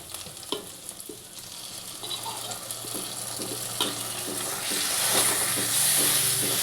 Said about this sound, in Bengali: আলুগুলোর ওপর এবার আমি এই মশলাগুলো সব দিয়ে দিলাম